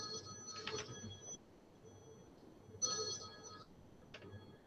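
A telephone rings faintly from inside a box in two muffled bursts of trilling electronic tone, separated by quiet room noise.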